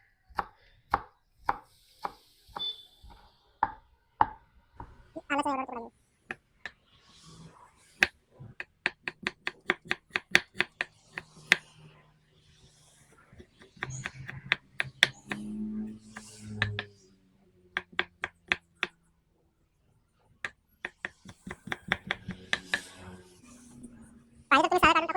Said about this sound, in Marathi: कोथिंबीरला चिरू.